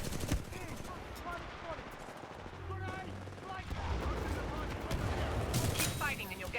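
Rapid automatic gunfire and blasts from the video game Titanfall 2 fill the clip, loud and continuous with bursts of rattling shots, while in-game voices shout over the combat.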